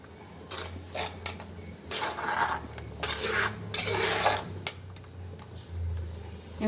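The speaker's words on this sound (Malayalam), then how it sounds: "നന്നായിട്ട് ഇളക്കി യോജിപ്പിക്കണം" A spoon scrapes and clinks against a metal pot of anchovy curry in several bursts of stirring, close by, with short pauses between.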